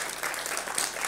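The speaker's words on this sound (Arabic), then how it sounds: "تصفيقة تصفيقة، برافو برافو" Children clap together in a steady burst of applause at a children's TV show, a dense, lively patter of many small hands.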